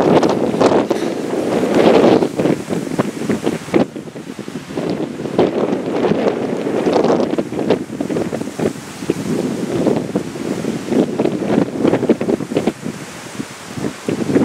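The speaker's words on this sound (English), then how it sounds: "there's such a wind off the left" Strong wind on a coastal golf course in East Devon buffets the microphone in continuous gusty roaring, rising and falling in waves, with no talking.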